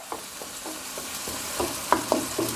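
Pumpkin is pressed down into added water in a stir-fry pan with pork, giving a few soft knocks and scrapes of a utensil over a gentle bubbling sizzle, close up with no voices.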